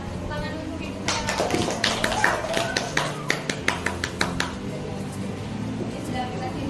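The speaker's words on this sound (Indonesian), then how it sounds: "Tepuk tangan untuk Ibu Vera" A small group applauding a teacher, with a few seconds of scattered, uneven hand claps that start abruptly and taper off, alongside faint background voices.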